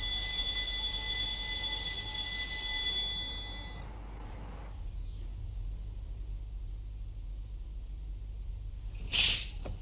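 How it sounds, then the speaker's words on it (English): Boarding school wake-up bell ringing loudly and continuously for about three seconds, then stopping, leaving a quiet room with a brief clatter near the end. "The bell goes every morning at 5 to 8."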